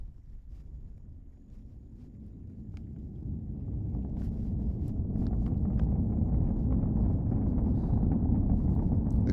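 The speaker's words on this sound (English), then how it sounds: "Let's listen to the roar of those 9 Merlin engines." A SpaceX Falcon 9 rocket's nine Merlin engines roar as it climbs away from Cape Canaveral carrying 22 Starlink satellites, a deep distant rumble that gradually swells louder over several seconds.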